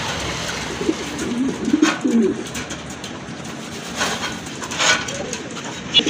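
Pigeons at a market stall coo softly amid a busy, hissy background of ambient noise, the low calls rising in a few brief clusters.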